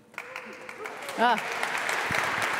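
Applause from the audience at the plenary closure of the Recognition & Rewards Festival 2023 swells into a dense, steady patter of clapping, with brief voices heard just before it.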